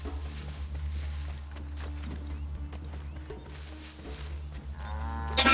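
A cow moos in a video game, with low sustained lowing calls over a steady droning game ambience and faint background sounds.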